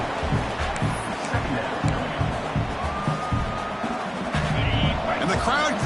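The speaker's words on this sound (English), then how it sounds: "the crowd coming to life here trying to help this defense down in the red zone" Football stadium crowd roaring to back the defense near the red zone at a Tennessee vs Oregon game, a dense sustained wash of cheering and noise under a commentator's steady talk, swelling toward the end.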